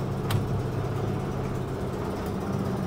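A 50-year-old Mercedes-Benz 115 engine idles steadily with a low, rumbling, muscle-car-like drone, continuous and moderately loud throughout, with no voices.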